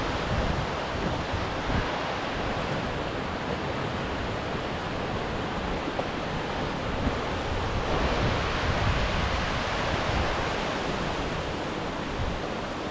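Strong, steady wind roaring and buffeting across the microphone high on an Alpine trail, a broad continuous rush with no letup and no voices.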